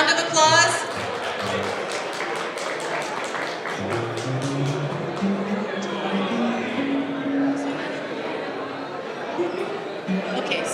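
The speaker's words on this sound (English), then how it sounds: "Round of applause." Crowd at a mental health awareness fundraiser giving a round of applause for an award recipient, a steady patter of claps mixed with chatter, fading under a speaking voice.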